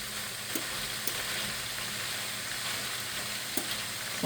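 Macaroni fries in a pan on high heat for a Chinese-buffet-style dish, giving a steady close sizzle broken by a few sharp clacks of stirring, with no voices.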